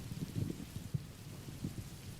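Rain patters steadily at low volume, heard from a distance as if coming through a phone line during a sudden storm, with soft irregular thumps under a constant hiss.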